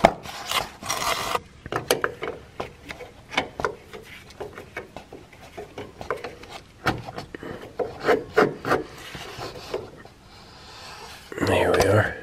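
Pliers grip and twist loose the fill cap on a Gravely ZT XL hydraulic transaxle, making scattered scraping and rubbing clicks mixed with someone talking, and a heavier rasping burst at the end.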